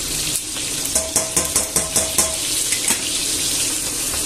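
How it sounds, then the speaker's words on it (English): Garlic sizzles and fries in a pan, a constant hiss with a run of sharp clinks and scrapes as the pan is shaken and stirred, close by and with no voices. "and let it fry up"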